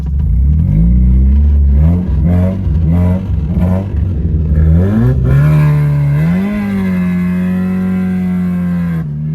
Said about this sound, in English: I'm gonna hit the drift.